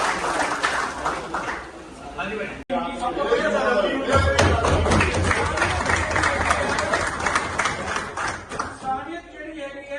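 Audience at a State Media Club meeting held at a circuit house for flood relief applauding loudly and steadily, with voices and chatter mixed in close by.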